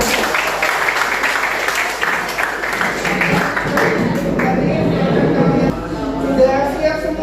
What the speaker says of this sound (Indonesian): Aplaus buat kalian.